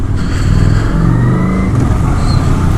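A Kawasaki Vulcan 900 Custom motorcycle engine revs loudly and up close, with a deep, continuous roar that rises and falls briefly on its own.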